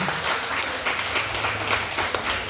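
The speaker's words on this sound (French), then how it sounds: "Est-ce qu'on peut l'applaudir encore une fois, s'il vous plaît?" Dense crowd applause at a singing competition, a continuous wash of many hands clapping at a steady level throughout, with no talking.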